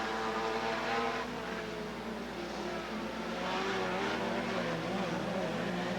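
Modified race cars circle Southern Oregon Speedway in a continuous engine roar that rises and falls as the pack passes, heard from a distance under an announcer's steady commentary.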